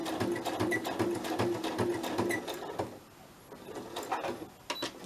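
A sewing machine stitches through paper held with glue, its needle running in a rapid, steady rhythm for a couple of seconds, pausing, then starting again in short bursts up close.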